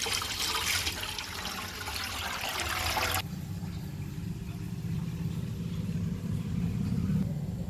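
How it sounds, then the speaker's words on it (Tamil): Water pours into an alligator gar tank, a hissing splash for about three seconds that drops to a lower, steady rumbling fill, faint and continuous. "இப்போ அலிகேட்டரை விட்றதுக்கு தண்ணியை இதில் ஃபுல்லாக ரொப்பிக்கலாம்."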